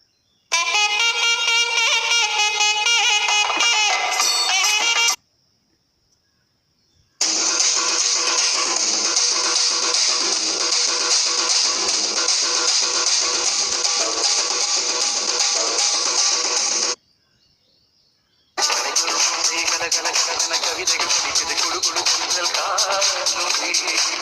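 Tamil ringtones from a wallpaper and ringtone app play back as three separate melodic snippets, loud and close, with brief silent gaps between them and no talking.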